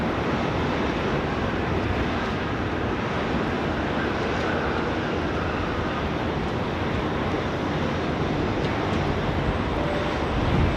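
A plane comes in to land on runway 16 right at Sydney Airport, its steady broadband engine roar filling the whole stretch at constant loudness, with no voices over it.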